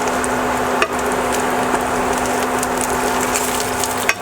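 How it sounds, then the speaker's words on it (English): Maple espresso bacon fries in a pan, a steady close crackling sizzle that lasts the whole time, with a few faint clicks and no talk. "we're just waiting for the bacon to finish up cooking"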